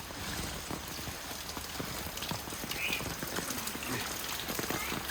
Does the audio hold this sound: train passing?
no